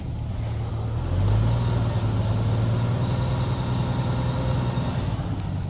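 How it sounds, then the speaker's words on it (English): 1997 Jeep Cherokee with the 4.0 engine idling, a loud steady low rumble with a faint rising whine, close up; any scratching noise from the front is not clearly distinct within the engine drone. "I hear like a scratching sound or something in the front every time."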